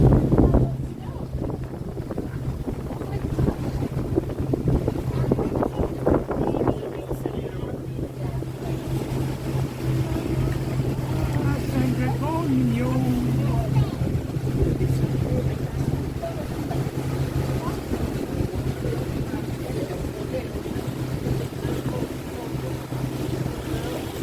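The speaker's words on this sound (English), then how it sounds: "That means it's real windy." Strong wind buffets the microphone in a steady roar over Big Bear Lake, with whitecapped water churning underneath and a faint voice briefly heard.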